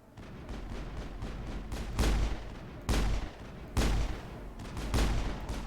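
Gunfire in the video game Mass Effect: four heavy, sharp blasts spaced about a second apart over a rumbling game background, loud and close, with no talk.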